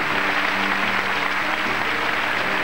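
A TV game show studio audience claps steadily, a dense, even patter of applause lasting a few seconds.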